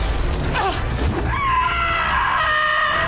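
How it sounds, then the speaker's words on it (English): A character in the video game Star Trek: Resurgence screams loudly, a drawn-out wavering cry over rumbling game sound with crashing noises. "It's a good scream though."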